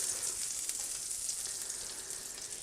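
Butter and oil sizzle steadily in a hot pan before scallops go in, a continuous close frying hiss with no speech.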